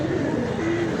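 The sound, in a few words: pigeon cooing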